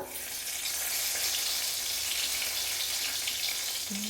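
Bay leaves for tempering hit hot white oil in a wok, a bright, continuous sizzle and crackle, close and fairly loud, holding steady with a faint clink at the end.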